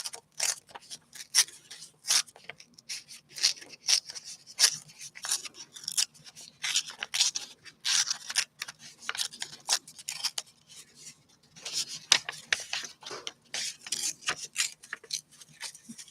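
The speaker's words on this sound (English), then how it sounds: "I love tearing paper, so I'm just going to give it like a torn edge." Paper being torn by hand to give a card-making piece a rough torn edge: a long run of quick, close, dry ripping and crackling bursts at a steady rhythm, with no talk.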